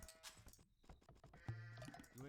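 Sheep bleat in a video game during a tournament match: a few short, nasal bleats, the clearest midway through, mixed with busy game effects and a commentator's voice.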